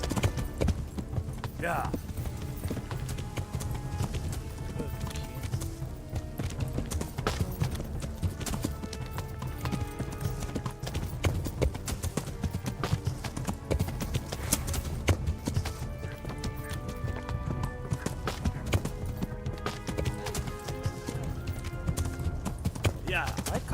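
Horse hooves clip-clop in a steady, continuous rhythm in the video game Kingdom Come, heard clearly throughout at moderate loudness while someone talks over the top at times.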